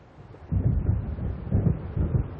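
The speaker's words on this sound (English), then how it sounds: "It seems there's a storm coming." Deep thunder from an approaching storm in the video game Alan Wake rolls in steady, low rumbling waves, swelling about every second with no voices over it.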